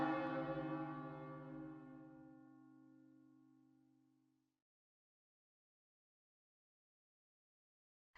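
A single deep bell strike in the video game Another Code Recollection, ringing out clearly and decaying slowly over about four seconds into silence.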